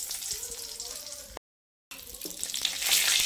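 Cinnamon and dried chilli fry in hot oil in a pan, giving a steady close sizzle that breaks off for a moment and then comes back louder and brighter.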